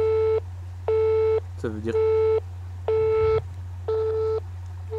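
A telephone line to Webedia plays repeated busy-signal beeps in a steady on-off rhythm over a constant low hum. Someone speaks briefly between tones, with a short burst of noise near the middle.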